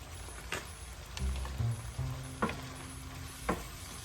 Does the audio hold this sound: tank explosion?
no